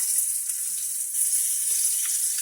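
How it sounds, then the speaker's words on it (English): Olive oil heating in a frying pan gives a steady, high, soft sizzle, close and unbroken, with no voices. "Put a little olive oil in the pan."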